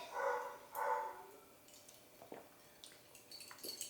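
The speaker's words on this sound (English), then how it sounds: "Excuse our neighbour's dog." A neighbour's dog lets out two distinct barks at a moderate distance, followed by quieter faint knocks and small sounds.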